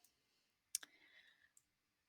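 A few sharp, faint computer mouse clicks while working in SketchUp Pro, one pair close together and a softer single click after, in an otherwise quiet room.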